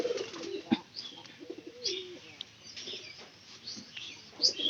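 Pigeons on a goat-rearing farm cooing softly at moderate distance, short warbling coos and a few chirps over a quiet background with occasional knocks and rustles.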